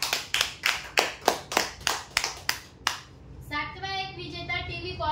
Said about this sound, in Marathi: जोरदार टाळ्या होते यांच्यासाठी.